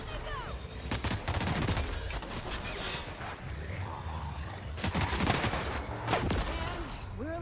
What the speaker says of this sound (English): This gun blasts through those Raptidons like nobody's business.